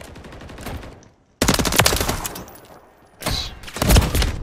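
Rapid automatic gunfire in the video game Call of Duty MW3, loud sustained bursts broken by a short pause, then another burst.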